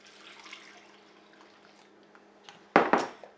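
A tea tree oil solution is poured over cleaning wipes in a container, a short liquid splash near the end after a quiet lead-in.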